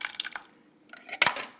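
Thick homemade restaurant-style salsa pours and splatters into a pot, with short wet drips at the start and a louder splash near the end, close and alone with no talk.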